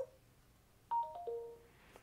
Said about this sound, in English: you should see that that's a new notification sound